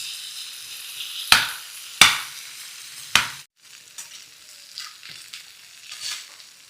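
Boiled peas and potato pieces drop into a hot pan with curry leaves, making three sharp clattering splashes, followed by a softer, steady frying sizzle. No one speaks.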